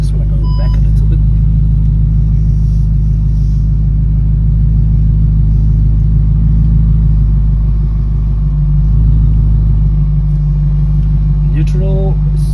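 A straight-piped Audi R8 idles in a deep, loud, steady rumble while being eased into reverse, the low drone holding evenly with a slight swell near the end and brief clicks on top.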